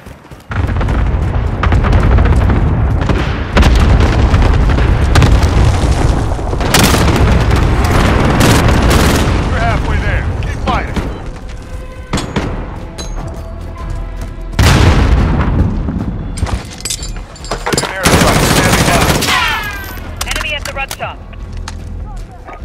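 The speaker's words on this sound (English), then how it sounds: "Allied cluster strike inbound." An allied cluster strike in Call of Duty Modern Warfare at night near a cave: loud, continuous rolling booms and blasts that overlap for over twenty seconds, with gunfire and radio chatter mixed in.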